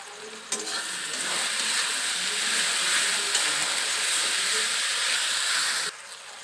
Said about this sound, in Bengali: কেটে রাখা টমেটো দিয়ে দিচ্ছি এখানে আমি দুটো টমেটো দিলাম